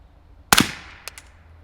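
A CZ Scorpion fitted with a Novox X-SD barrel fires one suppressed round of Winchester white box ammunition, giving a sharp close crack with a short decaying tail. Two faint clicks of the action follow.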